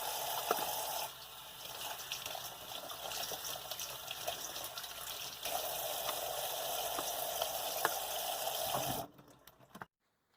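Running water washes over mandarin oranges and other fruit being rinsed for cold candied fruit, a steady broad gush with small splashes that continues evenly for about nine seconds, then stops abruptly.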